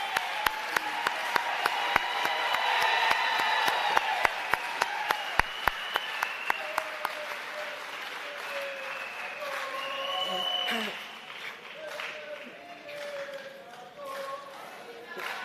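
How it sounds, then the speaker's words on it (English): A large audience at a presidential summit on gender-based violence and femicide gives a sustained round of applause, with sharp individual claps rising over the crowd in the first half before it thins out beneath voices. "Let's give him another round of applause."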